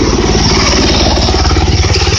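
A Bolens 1220 lawn tractor engine idles steadily in a garage, a loud, close, throbbing medium engine running continuously with no pauses or revving.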